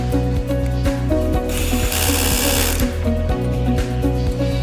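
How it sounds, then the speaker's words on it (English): A powered driver sets screws into a lock rod fixing plate while splicing an MY500 series cabinet. It gives a steady, close, rhythmic mechanical whir with repeated ratcheting clicks and no talk. "Put lock rod fixing plate in. Install the screws."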